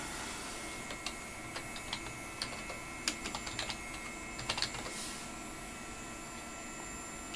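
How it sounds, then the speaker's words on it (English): Someone types a command on a computer keyboard beside an SGI O2 workstation, scattered light key clicks over a steady loud machine fan hum. "We're going to type in install standard."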